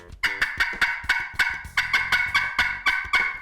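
Rapid series of sharp, high-pitched hen turkey cutting notes, imitated by a hunter on a turkey mouth call, loud and close, about a dozen clucks in an uneven choppy rhythm.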